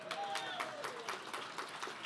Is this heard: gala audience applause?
yes